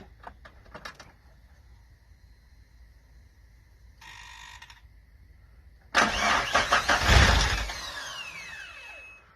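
A Suzuki 2.3 engine swapped into a Geo Tracker cranks through several short bursts of starter whir, then catches and roars into a loud, rising run that settles into a steady idle close by.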